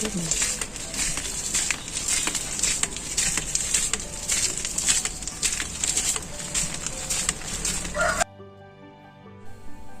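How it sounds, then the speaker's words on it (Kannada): Rain patters steadily and densely nearby, with a faint voice underneath, then stops abruptly near the end. "ಮಳೆ ಶುರು ಆಯಿತು"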